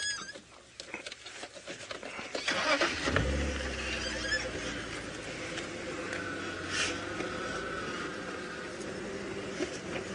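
A safari game drive vehicle's engine cranks and catches at dawn, then settles into a low idle and rumbles steadily as it moves off, close and moderately loud among outdoor ambience.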